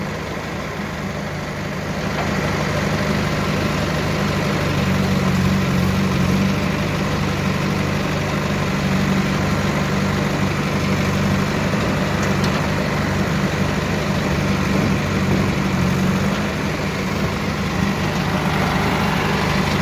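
Steady, loud diesel rumble of a tractor idling nearby as a JCB in poor condition loads soil at a roadwork site, a constant low throb with slight vibration and no pauses.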